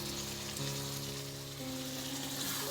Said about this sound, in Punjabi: ਤੜਕੇ ਦੇ ਵਿੱਚ ਆਪਾਂ ਪਾਵਾਂਗੇ ਇਹ ਜਿਹੜੇ ਪਿਆਜ਼ ਸ਼ਿਮਲਾ ਮਿਰਚ ਤੇ ਆਲੂ ਆਪਾਂ ਪਕਾ ਕੇ ਰੱਖੇ ਹੋਏ ਸੀ